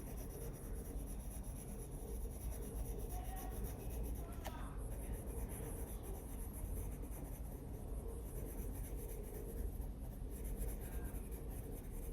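Polychromos colored pencil shading on paper, a steady soft scratchy rubbing close to the ear, continuous and even for several seconds with no talk.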